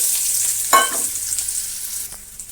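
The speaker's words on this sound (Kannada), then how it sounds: "ಸ್ವಲ್ಪ ಸಾಸಿವೆ ಹಾಕೋಣ ಸಿಡಿ ಸಿಡಿ ಅನ್ನಲಿ" Mustard seeds crackle and splutter in hot cooking oil in a pan: a close hiss with sharp popping bursts, loudest near the start and then settling into a fainter sizzle, with no voices.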